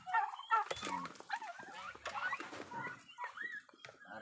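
Turkeys clucking and gobbling at close range while being fed fermented feed, a busy run of short, rising calls overlapping in quick succession.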